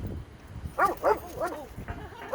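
A female dog barks close by in a short series of sharp, yelping barks with brief pauses between them, and faint low sounds precede the first bark.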